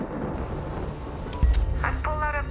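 A thunderstorm at sea in a shark-movie trailer brings a sudden deep thunder boom midway over rain and wind noise, with a brief burst of other sound effects after it.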